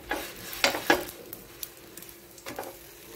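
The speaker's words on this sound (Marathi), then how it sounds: "आतल्या बाजूने पाव भाजून घ्यायचा आहे।" Pav bread toasting in ghee on a hot pan, a few soft sizzling bursts and scraping touches scattered through an otherwise quiet stretch, close and fairly faint.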